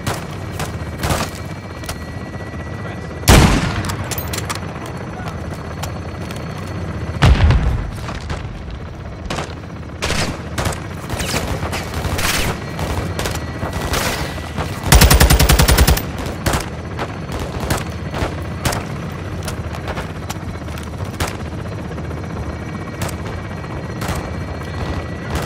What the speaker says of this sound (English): Ready for gun run, Soap.